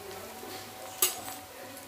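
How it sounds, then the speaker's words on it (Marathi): Onion being sautéed and stirred in a pan, with a soft steady sizzle and one sharp clink of the utensil against the pan partway through. "कांदा छान परतून घेऊया"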